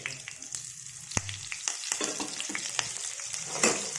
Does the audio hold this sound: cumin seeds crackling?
yes